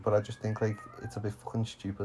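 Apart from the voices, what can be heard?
cat meowing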